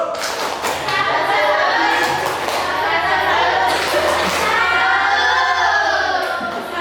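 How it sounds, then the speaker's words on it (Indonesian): A classroom of students clapping together for group 3 at the end of their poster presentation, a dense steady burst of hand claps with thumps and shuffling, voices mixed in throughout. "Kita kasih tepuk tangan untuk kelompok 3."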